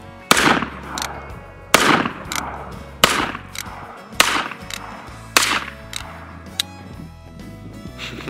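Gunshots from a firearm fired outdoors on a casual shooting outing: five loud, sharp reports with ringing tails, spaced roughly a second or more apart, with one fainter shot near the end.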